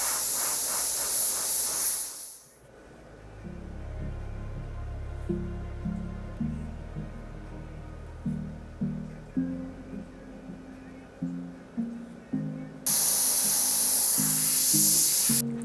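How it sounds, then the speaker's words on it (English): An airbrush sprays paint onto a custom helmet in loud, close hissing bursts at the start and end, with quieter clicks and short puffs of air in between. "I'm just gonna add a little bit of airbrush color here"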